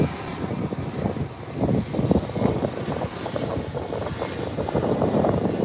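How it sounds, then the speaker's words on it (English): An Alaska Airlines Embraer 175 jet lands at LAX, its engines roaring in a rough, rumbling wash with gusts of wind buffeting the microphone, loud and close throughout. "Here's that Embraer 175 from Alaska coming in from San Francisco"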